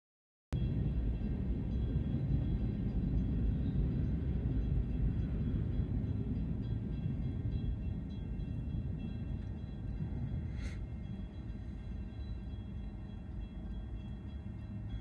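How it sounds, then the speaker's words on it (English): A train rolls past a railroad crossing, heard from inside a Tesla waiting at the intersection as a continuous, heavy low rumble that holds steady for the full length of its passing. "So we'll let this train pass"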